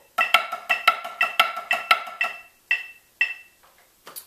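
Snare drum playing a triplet grid pattern with the accent shifted to the second partial of each triplet, sharp crisp strokes in a steady repeating rhythm, close and clear, trailing off into a few sparse hits.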